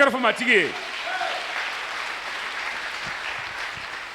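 Church congregation applauding, a dense, steady clapping wash that rises after a preacher's brief voice and continues at moderate loudness to the end.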